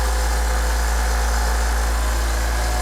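A Limodot 6 gallon ultra-quiet air compressor runs steadily while compressing, its low, even motor hum and vibration droning continuously at close range with no talking.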